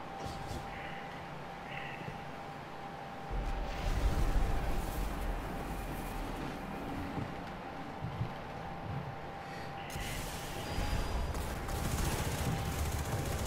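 Pistol gunfire in the video game Destiny during a Crown of Sorrows raid, a sustained barrage of rapid shots and blasts under a constant game hum, dense and continuous rather than distinct single shots.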